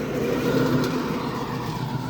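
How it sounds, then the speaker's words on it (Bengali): A motorised auto bike passes along a foggy village road through farm fields on a winter day, giving a steady, fairly loud engine and tyre rumble that fills the whole moment without voices. "গ্রামের রাস্তায় এখন যেটা কমন দেখা যায় সেটা অটো বাইক"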